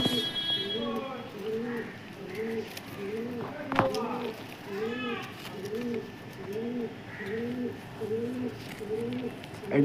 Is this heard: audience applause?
no